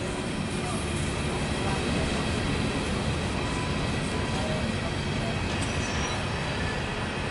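An empty CSX coal train rolls steadily past at close range, a dense continuous rumble of wheels and cars with faint squeal, holding an even loudness throughout.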